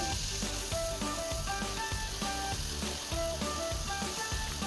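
Squid rings deep frying in hot oil give a steady, dense sizzle and crackle with rapid bubbling pops, close and continuous, with no voices.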